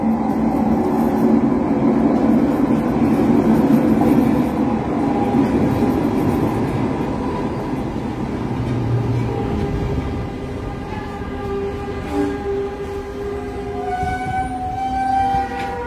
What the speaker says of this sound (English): There you guys go. You get some SkyTrain action.